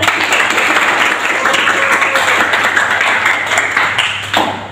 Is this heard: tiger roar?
no